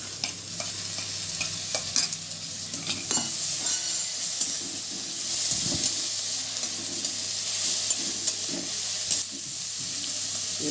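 Onion paste fries in a pan for matar paneer, with a continuous close sizzle punctuated by repeated spatula scrapes and clicks as it is stirred, no talking.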